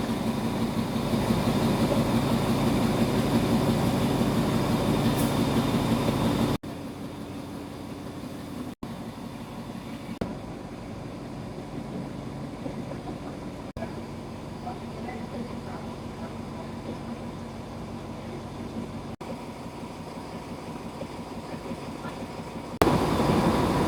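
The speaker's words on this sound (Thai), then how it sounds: "ที่นำพา ตู้รถไฟ ไทยทำเข้ามาในสถานีหัวลำโพง" A Thai-made train hauled by a CC11 locomotive pulls into Hua Lamphong station with a steady, broad rumble and engine drone that continues throughout, interrupted by a few brief clicks and level shifts.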